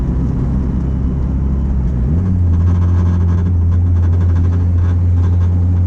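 Acura Integra engine droning steadily while driving in fourth gear, its pitch rising to a higher sustained hum as revs climb, loud and close with continuous road rumble and no voices.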